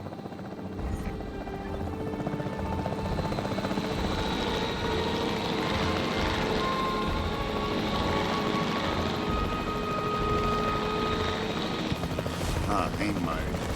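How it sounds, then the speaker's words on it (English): A capture team helicopter in Jurassic World Evolution 3, its rotor drone steady and fairly close for the whole stretch, a continuous thrumming hum with game music and a speaking voice layered on top. "The priority needs to be tranquilizing it with the capture team chopper."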